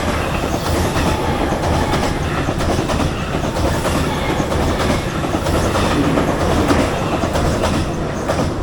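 A train rushes past very close beside a riverbank in Japan, a loud continuous roar with rhythmic clickety-clack of wheels over rail joints throughout.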